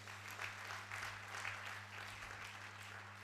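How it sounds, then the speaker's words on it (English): Audience applause fills a hall at a medical and dental induction ceremony, a steady, dense wash of clapping heard from a distance and fairly soft, with a low electrical hum underneath. "Please give him a round of applause."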